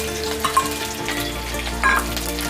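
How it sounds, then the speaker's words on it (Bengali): Sliced onion and green chillies frying in hot oil in a pan, a steady close sizzle with a few soft stirring knocks, no talking. "পেঁয়াজটা ভাজা হয়ে গেছে।"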